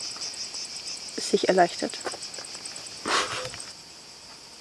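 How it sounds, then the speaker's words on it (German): A grasshopper trapped inside a car, its steady high buzzing chirp running throughout at moderate loudness, while people talk briefly over it. "Wir haben einen Grashüpfer im Auto"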